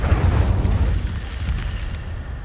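Incendio fire spell in Hogwarts Legacy, a rumbling, roaring blast at close range that starts strong and tails off into a crackling hiss over a couple of seconds.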